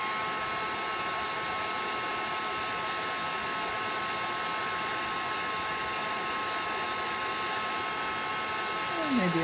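A heat gun blows with a steady, close whooshing hum while heating embossing powder and crackle paste on a mixed media piece, running continuously for about nine seconds.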